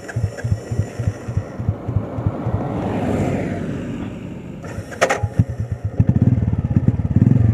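Royal Enfield Classic 350 BS4 motorcycle thumping at idle with a steady, pulsing single-cylinder exhaust beat, close and moderately loud, then revving up louder near the end.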